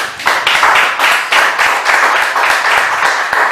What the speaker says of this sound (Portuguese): Exalta o Senhor com palmas.